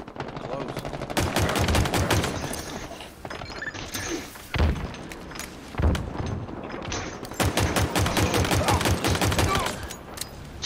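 Rapid pistol fire in a Halo Infinite team slayer match on Recharge, bursts of sharp shots from several players with heavy thumps between, loud and dense throughout.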